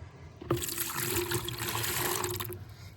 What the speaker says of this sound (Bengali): এবং এতে আমি দশ ভাগ জল দিয়ে দেবো